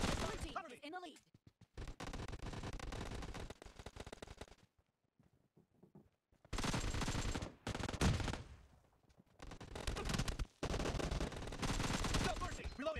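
Rapid bursts of gunfire from a PUBG warehouse fight, automatic weapon volleys separated by short gaps and quieter stretches, loud and close in game audio.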